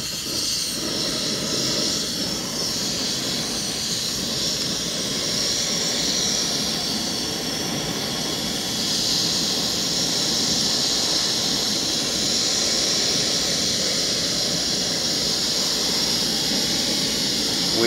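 An MSR Rapidfire camp stove roars steadily with a loud, even hiss of burning gas while heating a pot of water at a light boil, the flame noise continuous and close throughout.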